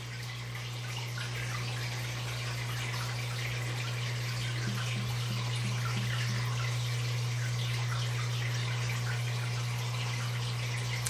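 A pump pushes water from a sump up into an aquarium overflow box, giving a soft continuous trickle and splash over a steady low pump hum.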